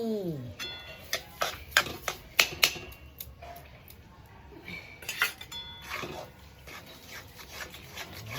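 A spoon clinks against a pot as sugar is added to milk halwa, with a quick run of sharp metallic taps followed by a pause and a second cluster of clinks, near and fairly soft.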